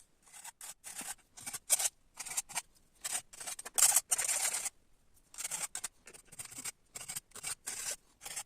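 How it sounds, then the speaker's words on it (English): Files and sandpaper work the edges of custom MN99S RC crawler chassis rails, producing rapid rhythmic rasping strokes in short bursts with brief pauses between, close and moderately loud with no speech. "with some files, sanding it down to make it smoother"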